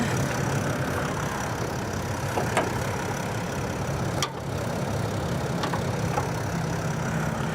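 Engine of a 2022 Antero Bamaga 4x4 van chassis idling steadily with the hood open, a constant low rumble filling the whole stretch with a couple of faint clicks, no talking.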